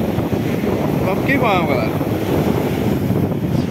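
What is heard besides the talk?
strong wind at the beach while fishing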